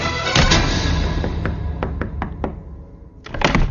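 Someone knocks on a closed door in a run of separate sharp raps, a few spaced knocks and then a closer burst at the end, with muffled background sound underneath.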